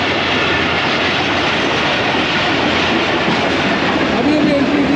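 Shalimar Express passenger train entering Malir railway station in Karachi, a loud, steady broadband rumble of rolling wheels and carriages passing close by throughout, with no pauses.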